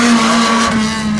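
A race car at Waterford Raceway drones past with a steady, loud engine note that holds for about a second, close and continuous, with no voices over it.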